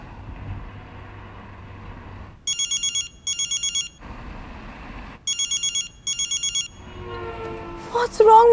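A telephone rings out on a call in four pairs of bright electronic trills separated by short gaps, loud and close over a low background hum, with a voice starting up right after.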